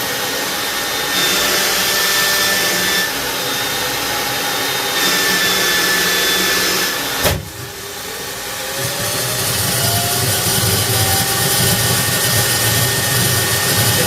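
A home-built turbojet engine running continuously with a loud, steady roar and hiss, a brief dip and thump partway through before the whine climbs again as it settles and warms up.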